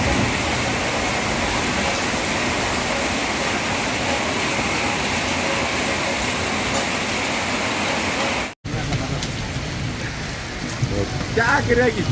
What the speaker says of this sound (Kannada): ಗಾಳಿ ಸಹಿತ ಆಲಿಕಲ್ಲು ಮಳೆ ಸುರಿದಿದೆ